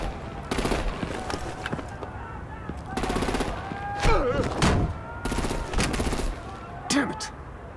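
Bursts of heavy gunfire and artillery blasts crack out in rapid clusters during a Batman video game battle, loud and close, with a voice briefly heard among the shots.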